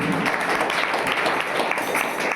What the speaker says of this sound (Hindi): ताली बजाएंगे प्रभु यीशु मसीह के लिए